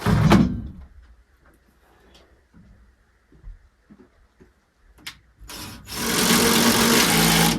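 A power drill drives 4-inch deck screws into the siding of a cabin extension: scattered knocks and handling noises, then a loud, sustained whirring burst near the end.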